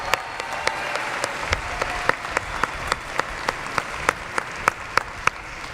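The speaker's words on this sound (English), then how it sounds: "Let's give them a round of applause." Audience in a large university arena applauding musicians at a 2023 commencement ceremony, steady broad clapping with a few sharp, regular louder claps standing out close by.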